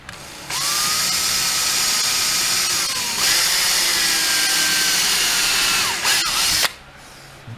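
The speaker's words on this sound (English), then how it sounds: "Didn't drill it out much." Power drill boring out a small hole in a GM 4L60 automatic transmission valve body, fitted during a Transgo stage 2 shift kit install; two sustained close, loud whining runs with pitch dips at start and stop, no talk.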